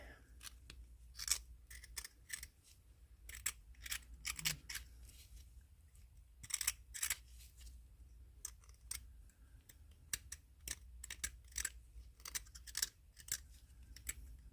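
An X-Acto knife trimming cast ceramic resin makes faint, sharp scraping clicks in short irregular bursts, close up over a low background hum.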